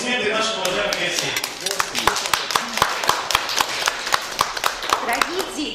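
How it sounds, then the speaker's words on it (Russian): Guests clapping at a family celebration, a crowd applauding with sharp individual claps standing out and a voice talking over it. "Аплодисменты нашим уважаемым гостям."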